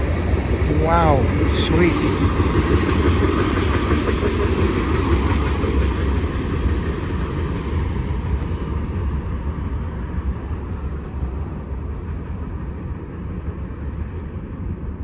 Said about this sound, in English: Train's moving. These classical Burlington Northern cars.